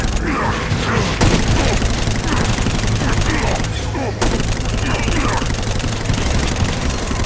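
The Exodus 10 Locust Plague gun in the Saints Row: Gat Out of Hell video game, firing as a dense, unbroken rattle of rapid shots and mechanical clatter that runs loud and steady throughout.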